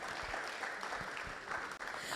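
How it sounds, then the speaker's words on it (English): Audience applause at an entrepreneurial leadership and financial literacy event, a faint, distant, continuous patter of clapping heard briefly in a large room. "Ladies and gentlemen, with a round of applause"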